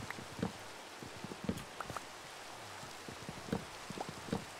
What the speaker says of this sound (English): the rain sound in Minecraft is very, very accurate